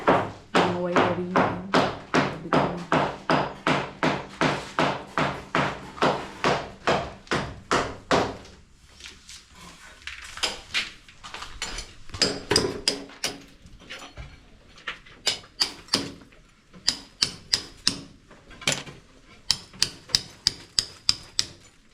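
Big nails are hammered during a house renovation: a fast, steady run of loud, close strikes, then sparser, irregular blows with quieter gaps between them.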